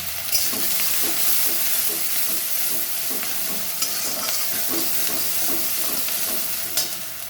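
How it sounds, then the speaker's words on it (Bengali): Grated onion fries in a hot pan for an egg dalcha, a loud continuous sizzle with rhythmic scraping strokes of a spoon stirring it, close and steady without talk. "পেঁয়াজটা গ্রেট করে রেখেছি, গ্রেট করা পেঁয়াজ দিয়ে দিলাম।"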